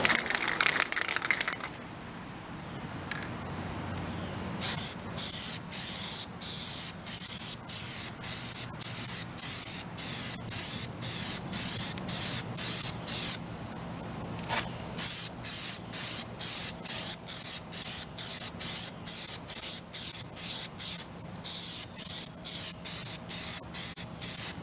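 Aerosol can spraying a heavy coat of Plasti Dip: loud, close hissing bursts in quick rhythmic pulses, with a long run of repeated sprays, a brief pause, then another series of rapid spurts.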